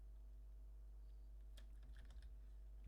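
Quick burst of computer keyboard typing as code is entered for a RuneScape private server, several close, soft key taps clustered together over a steady low electrical hum.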